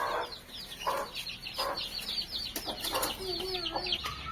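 A mother hen clucks repeatedly in short, irregular bursts nearby, with chicks, other bird chatter and rustling in the background.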